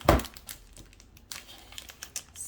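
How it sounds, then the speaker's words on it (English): Clear tape peeled and torn off a roll, then pressed onto a Twix candy wrapper: a loud crinkling rip at the start, followed by softer scattered crackles and taps up close. "So I'm just gonna put a little bit of tape here."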